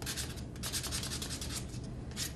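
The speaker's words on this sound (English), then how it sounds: "I am using the lighter or the finer sandpaper on this" Fine sandpaper rubbed over a wooden craft piece, a steady close scratchy hiss with rhythmic back-and-forth strokes, continuous and alone without talking.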